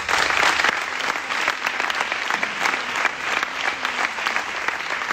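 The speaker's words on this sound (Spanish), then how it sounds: "Un aplauso." Loud, sustained applause fills a gala hall at the 'Ellas Cuentan' awards event, a dense continuous roar of many hands clapping with no speech over it.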